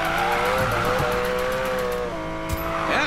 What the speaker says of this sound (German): Ich könnte den ganzen Tag so driften.